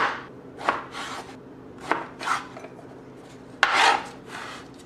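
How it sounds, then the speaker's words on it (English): A knife chops through a pear on a cutting board, giving several separate crisp cuts with scraping, spaced irregularly and heard close up, with no talking. "Now, chop ourselves up a pear."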